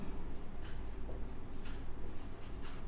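Pen or chalk writing during a Class 11 maths lesson on mathematical induction: steady scratching and scraping strokes, faint and continuous, with no talking heard.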